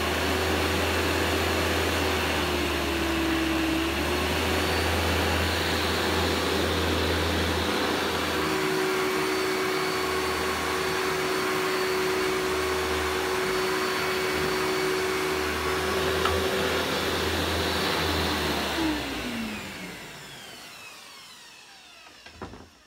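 A 2000 Samsung Wide Clean vacuum cleaner motor runs steadily with a slightly whiny tone, holding a constant drone for most of the stretch before spinning down near the end, with a faint knock as it stops.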